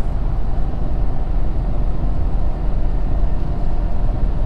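Inside the cab, a 2020 Ford Super Duty with a 10-speed transmission on 37-inch tires accelerates while towing a heavy load, giving a loud, continuous low engine and road roar.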